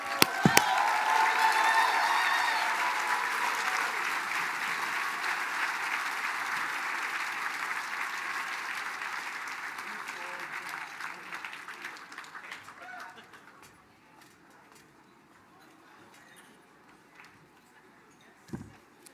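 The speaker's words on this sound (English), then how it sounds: "Let's give another round of applause for our Chief Executive, Virgil Wind" An audience applauds at length after a speech by the Mille Lacs Band of Ojibwe Chief Executive, loud and steady at first, then fading to scattered claps and quiet near the end.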